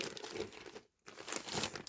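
Crinkling of a plastic bag being opened, close and soft, with a steady rustle, a brief pause, then more crinkling, no voices.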